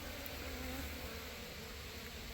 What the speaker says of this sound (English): we got active bees at this hive